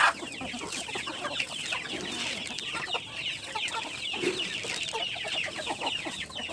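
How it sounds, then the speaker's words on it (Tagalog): Several backyard pet chickens, including layer hens, cluck and chatter nearby in an ongoing, overlapping chorus of short clucks, with no talking. "Yung ating mga alagang manok guys, magkakain na naman tayo"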